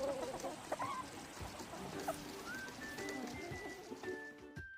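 Chickens on a cage-free farm clucking and calling in a faint, distant flock, with scattered short clucks and a few higher drawn-out notes over a quiet background.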